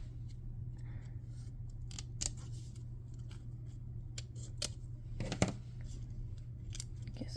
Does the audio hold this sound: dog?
no